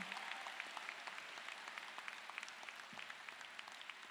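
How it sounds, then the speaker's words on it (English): Commencement ceremony audience applauding steadily throughout, a dense wash of many hands clapping at a moderate distance with no talk over it. "I think they deserve a loud round of applause"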